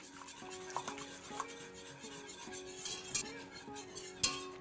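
Whisk stirring custard with cornstarch in a metal pan, quick rhythmic scraping and light clinking strokes against the sides, close and fairly quiet, with no talking.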